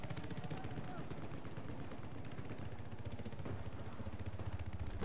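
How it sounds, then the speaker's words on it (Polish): Dense, steady gunfire from the video game Battlefield 4, rapid automatic bursts and scattered shots layered continuously throughout with constant background battle noise and a voice talking over it. "Tam coś strzela, tu coś strzela."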